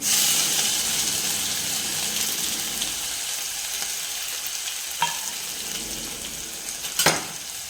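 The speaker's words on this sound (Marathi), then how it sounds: "त्यानंतर मिरची आणि लसूण वाटून घेतला होता तो घालून घेते" Ground chili and garlic paste sizzling in hot oil with curry leaves, a loud continuous hiss that slowly fades, with a couple of sharp utensil clicks near the end.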